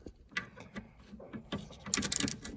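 A ratchet cranking out a voltage regulator bolt on a 2007 Polaris Ranger 700, giving quiet, irregular clicking with a few muffled knocks, then a quicker burst of sharper clicks near the end.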